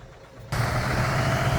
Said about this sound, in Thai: เครื่องยนต์ติดเรียบร้อยนะ ระบบทำเสร็จเรียบร้อยแล้วกำลังเช็คระบบอยู่นะ